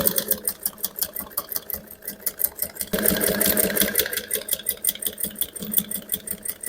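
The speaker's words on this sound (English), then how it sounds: "So we're going to be sewing the last one on this row before we now cross it" A sewing machine stitches a bust cage, its needle hammering in a fast, steady rhythm of close, loud pulses that briefly surge louder and faster partway through.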